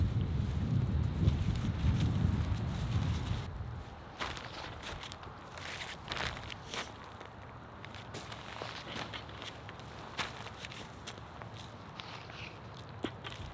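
Strong gusty wind buffets the microphone in an open field at onion planting time, loudest and roaring for the first few seconds, then easing to a steadier rush broken by short gusts and rustling.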